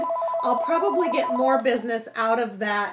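A home telephone rings in a steady electronic tone for about half a second at the start, then keeps going under continuous close-up speech from a person talking.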